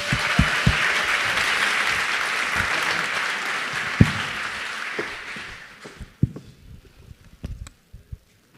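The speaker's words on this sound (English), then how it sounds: "let's give the biggest cheers and whoops and claps you can" A conference crowd at a Bitcoin mining technology presentation breaks into sustained loud applause for about six seconds, then dies away into a few scattered, isolated claps.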